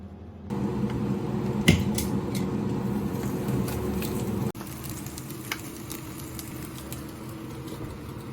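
Egg and bacon frying for breakfast in a pan, a steady broadband sizzle with a few sharp pops and crackles, a brief shift in level partway through, no talking.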